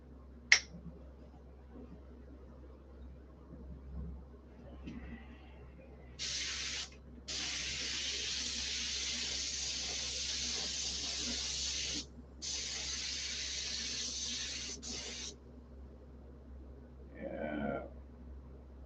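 A paint sprayer laying down a first coat of white paint hisses in two long, steady bursts, close by, with brief clicks and short spurts around them in an otherwise quiet space.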